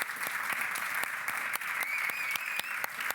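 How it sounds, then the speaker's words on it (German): Loud, sustained applause from a conference audience at an educational professional day, with dense, steady clapping close by and a few sharper individual claps standing out, no voices. "bitte einen ganz großen Applaus"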